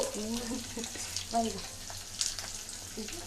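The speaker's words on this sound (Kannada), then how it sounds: "ಸಾಸಿವೆ ಕಡಿಬೇವು ಇದನ್ನೆಲ್ಲ ಒಗ್ಗರಣೆಗೆ ಅಂತ ಹಾಕ್ತಿದ್ದೀವಿ ಈಗ" Mustard seeds, curry leaves and asafoetida hit hot tempering oil in a home kitchen, giving a steady, moderate sizzle and crackle under a person talking throughout.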